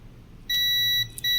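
A multimeter on continuity test beeps while probing a capacitor on an LED TV switching power supply board. Two steady, loud electronic tones are heard, one long and one starting just after, alone without talk.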